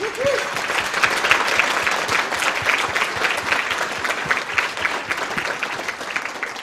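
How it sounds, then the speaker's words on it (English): Sustained applause from an audience at the 2023 Queensland Australian of the Year Awards ceremony, honouring the nominees: dense, steady clapping from a large crowd throughout, with a brief voice heard at the start. "Let's give them all a big round of applause."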